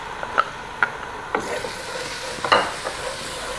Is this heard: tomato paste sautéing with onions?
yes